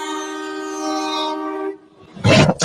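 A train horn blares a sustained, loud multi-tone chord, cuts off, and after a short gap a burst of heavy rushing noise follows as the train passes close by.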